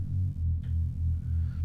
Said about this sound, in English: which is kind of a distorted sine wavy sound.